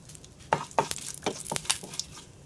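A spoon stirs curry leaves and asafoetida in a frying pan with a soft sizzle, giving a few close scraping strokes over low, quiet frying.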